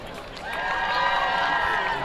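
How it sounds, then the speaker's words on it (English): A crowd applauds and cheers at a state championship football game, a steady wash of clapping swelling after the first half second and staying moderately loud, with a distant voice faintly over it. "Ladies and gentlemen, another round of applause for I8FA runners-up, the Orangeville Broncos."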